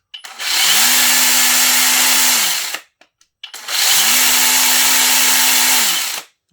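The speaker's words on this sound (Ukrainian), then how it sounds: "щоб ви почули, як сама робота цієї пилки" A cordless brushless 40V chainsaw with a 40 cm bar revs up and runs at a steady high whine without cutting, cuts off, then runs again for a second burst, loud and close.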